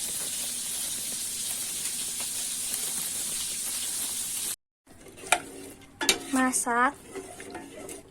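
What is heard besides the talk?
stirring coconut milk porridge (bubur sumsum) while cooking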